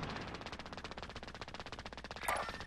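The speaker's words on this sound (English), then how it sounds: "Oh, someone shooting at you?" Fast automatic gunfire in a multiplayer shooter game, a steady rattling stream of evenly spaced shots, fairly faint and distant, running throughout with no talk over it.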